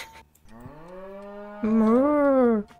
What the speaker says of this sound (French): Je suis une vache.